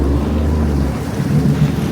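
A jet ski runs on calm sea water, its engine a steady low drone blended with wind buffeting the microphone and water noise, continuous throughout.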